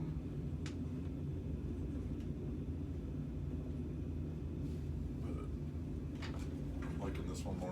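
Airplane engine in a flight simulator using the Boris AudioWorks sound package with an enhanced flight model, heard as a steady, quiet low rumble that runs under someone talking throughout.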